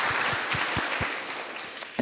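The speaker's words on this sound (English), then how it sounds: "Give yourselves a round of applause, please." Brief applause from an evening gathering at a college library opening, a short burst of scattered clapping, fairly close and lively, that tapers off within about two seconds.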